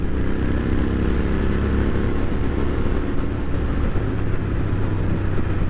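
Steady low exhaust drone from a Royal Enfield Interceptor 650 cruising along, constant and close with wind rush over it, no speech.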